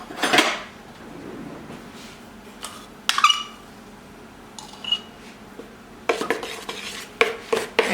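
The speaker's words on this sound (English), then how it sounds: "And then we're just going to mix up all of the dry ingredients." A utensil scrapes and taps against a mixing bowl while dry ingredients with baking powder are stirred together, giving scattered clinks and soft scraping strokes up close, with quiet pauses between.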